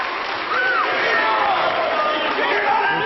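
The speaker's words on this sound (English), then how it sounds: "Big ovation for Steve Corino." Wrestling arena crowd at an NWA world title bullrope match, a steady wash of cheering and applause with scattered shouts, continuous and fairly loud throughout.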